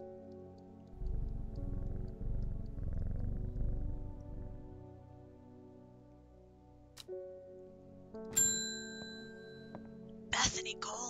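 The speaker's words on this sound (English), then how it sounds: "I'm gonna say hi to my kitty." A pet cat purrs softly in a low, steady rumble for a few seconds, faint and close, before quieter scattered sounds follow.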